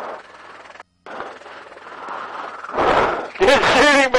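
An FN M249 SAW machine gun fired from a gunship helicopter over Nevada, a loud burst of rapid automatic gunfire near the end, following a stretch of rotor and wind noise with a short gap.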